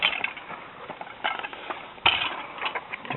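Plastic suitcase telescoping handle mechanism clicking and ratcheting as it is pushed down, a few sharp close clicks with a louder snap midway, no talking.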